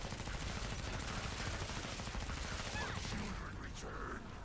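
Rapid bursts of MP5RAS submachine gun fire in Killing Floor 2, dense and continuous throughout with a slight drop near the end, with game voice sounds mixed in.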